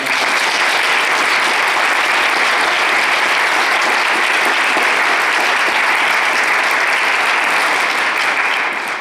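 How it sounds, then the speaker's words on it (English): Concert audience applauding at a college band spring concert, a loud, sustained roar of many hands clapping in a hall, dense and even from start to finish with no talking over it. "So how about a big round of applause?"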